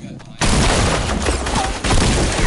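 Shotgun blasts from a new shotgun in a Fortnite fight crash in loudly after a brief quiet moment, a dense burst of gunfire that fills the clip with a second volley near the end, with speech mixed in.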